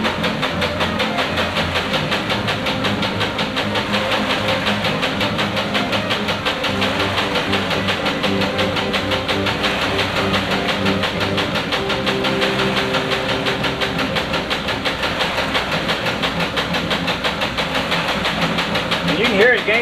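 A 20-horsepower electric motor driving a large gyro runs with a loud, continuous mechanical hum and rhythmic whirr, steady throughout the clip.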